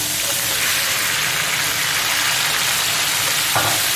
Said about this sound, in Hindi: इसको हल्का सा फ्राई करके अब इसमें टमाटर